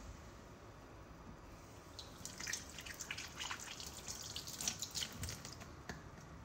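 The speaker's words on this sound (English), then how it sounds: "rinse it all with water" Running water splashes and drips as baby toys are rinsed, a soft trickle that swells into irregular close splashes and drips partway through, quiet and without talk.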